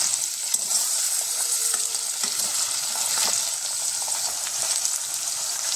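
Vegetable biryani mixture sizzles and fries in a pan, a steady, fairly loud crackle with occasional soft stirring scrapes and no voices.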